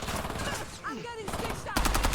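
Close-range gunfire from an automatic weapon in the video game Warzone, with a short quieter lull in the middle and a dense, louder burst of rapid shots at the end.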